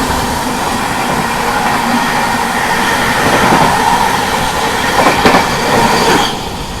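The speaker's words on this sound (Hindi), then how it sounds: "Overtaking Magadh express Islampur New Delhi." The Sampoorn Kranti Express rolls past the Magadh Express on the Islampur–New Delhi route, a loud close rumble of wheels on rails with rhythmic clatter and a few sharp metallic bursts near the end.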